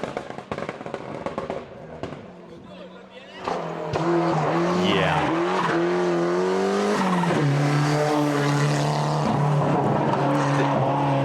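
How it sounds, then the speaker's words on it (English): A Ford Sierra Cosworth rally car engine roars and revs as it power slides, high-pitched whine rising and falling, with crackling bursts and crowd noise mixed in. "look at those power slides"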